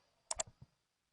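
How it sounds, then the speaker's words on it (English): A quick double mouse click on a Copy to Clipboard button, two crisp, faint clicks close together in a quiet room. "click the button that says Copy to Clipboard. So click that button"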